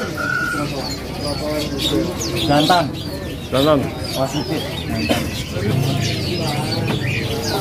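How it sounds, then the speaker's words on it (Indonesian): Garut white-eye (pleci) songbird calling with bright chirps and tweets through the clip, mixed with cooing birds nearby, while people talk over the calls. "Ini peleci Garut."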